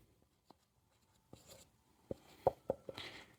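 Chalk or marker writing trigonometry formulas on a classroom board makes faint, sparse taps and short scratchy strokes, growing a little busier toward the end in an otherwise quiet room.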